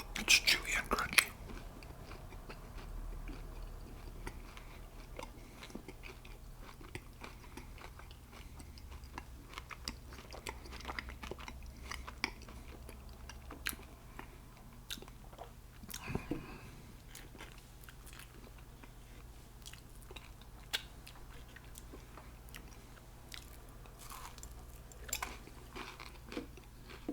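Close, quiet chewing and crunching of a chewy, crunchy sweet-and-salty snack, with irregular bites and mastication going on throughout and soft talk in places.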